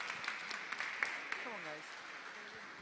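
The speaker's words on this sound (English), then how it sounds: "please give them a big round of applause" Faint applause from a conference audience welcoming the team from Hungary, a soft patter of clapping with a few sharper claps, partly under a speaking voice.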